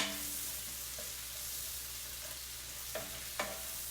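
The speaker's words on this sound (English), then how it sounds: "We're gonna add our mushrooms." Mushrooms tossed in with chicken thighs frying in a pan for a keto garlic mushroom dish, giving a steady low sizzle with a few brief stirring scrapes near the end.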